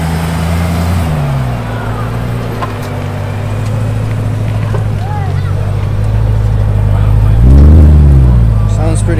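Honda Integra engine cranking and catching at a car meet, with a low steady idle and a rising rev swell near the end, heard over outdoor crowd chatter and background noise.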